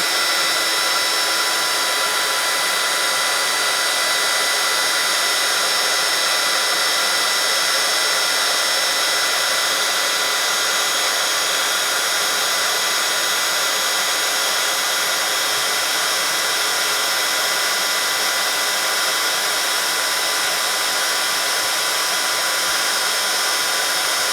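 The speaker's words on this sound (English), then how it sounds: "I'm just going to bring in my tweezers to hold it because the heat gun does get hot" A heat gun blows hot air over a card-making die cut, a loud, steady roaring whoosh like a hair dryer that holds unchanged for over twenty seconds, close up with no talking.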